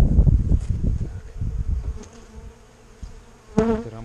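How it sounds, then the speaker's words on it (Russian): Honey bees buzz around hive frames at an apiary, a close, uneven droning with loud bursts up front that thins out, then a sharp individual buzz passing near the microphone. "Так, все, пчелки на 4 рамках."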